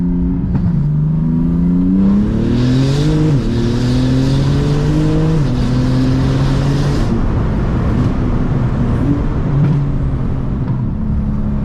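A Porsche GT2 RS Weissach engine revs loudly while driving, rising and falling through gear shifts in a continuous, close, powerful roar.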